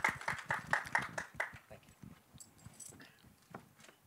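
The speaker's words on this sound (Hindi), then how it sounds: "कुकी गुलाटी साहब के लिए जोरदार तालियां." An audience at a movie teaser launch event applauds, with a burst of dense, close clapping that thins into scattered claps, while a voice speaks over it.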